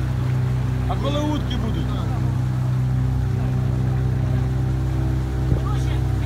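A motorboat's outboard engine drones steadily on the water during an outing on a boat, loud and unbroken throughout, while people talk over it.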